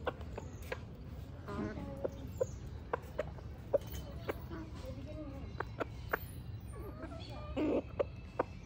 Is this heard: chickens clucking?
yes